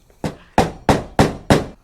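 Five firm, evenly spaced knocks of a rubber mallet seating metal cups into a truck tailgate panel, each a dull close thud with a short decay, about a third of a second apart.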